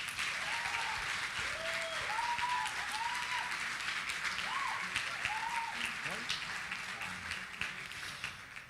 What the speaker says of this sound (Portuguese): Eu queria que vocês aplaudissem essa família chamada 100.